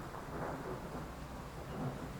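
Rain with rumbling thunder in the Train Sim World 6 railway game, a soft, steady wash of rainfall under a low, continuous rumble, faint and without talk.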